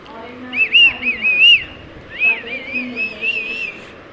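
Toy whistle given to a Shih Tzu puppy sounds in shrill, warbling bursts, one long run, a pause, then another, close and fairly loud, with faint murmuring voices in the background.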